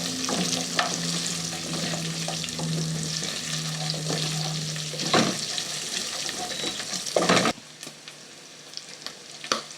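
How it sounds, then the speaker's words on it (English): Pilau is stirred as it cooks in a pot, with loud frying sizzle and repeated scraping strokes of the spoon, until the sound drops to a quieter simmer near the end. "As we add, we continue mixing."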